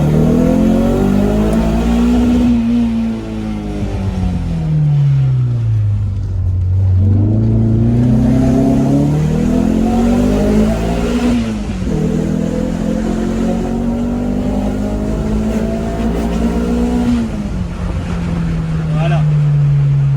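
Car accelerating hard, heard from inside the cabin, engine pitch climbing steadily through gears with clear drops at each shift and a loud, sustained rising drone throughout.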